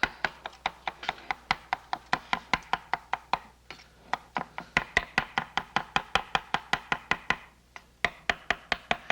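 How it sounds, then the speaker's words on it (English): A big knife chopping jelly on a board, rapid rhythmic thuds in a steady run of several dozen sharp close strikes with only brief pauses. "And then you just take a big knife and chop it all up."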